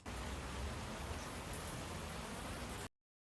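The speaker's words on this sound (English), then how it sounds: "It's a rain loop from some sample pack." Rain loop from a sample pack, EQ'd to tame its brightness, plays as a dense, steady wash of falling rain at constant level with no talk, stopping abruptly near the end.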